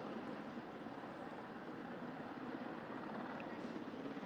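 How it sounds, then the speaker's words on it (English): A helicopter drones steadily above Swann Street in Washington, DC, a faint, distant rotor rumble holding an even level throughout with no other clear sounds. "Helicopters is kind of following us"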